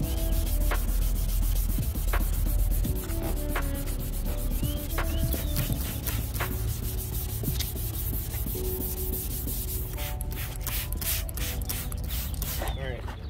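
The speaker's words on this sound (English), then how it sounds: "this is one of those situations where you will have to hand sand, because you can't really get a tool in there." Close, rhythmic rubbing strokes of hand sanding on a 2014 Toyota Highlander headlight lens, repeating steadily with quicker, sharper strokes near the end.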